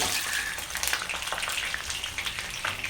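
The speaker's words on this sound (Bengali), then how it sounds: "মাংসগুলো অল্প ভেজে নামিয়ে দেব কিছুক্ষণের জন্য" Chicken pieces frying in a pan, a dense close crackle and hiss of bubbling oil with steady spitting pops, fairly even in loudness for a few seconds.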